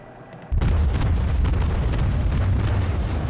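Naval gunfire from the Russian cruiser Aurora in World of Warships, a sudden loud boom after a short quiet lead-in that rolls into a sustained, heavy rumbling barrage with crackling bursts throughout.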